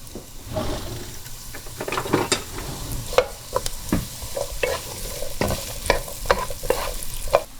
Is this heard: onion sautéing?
yes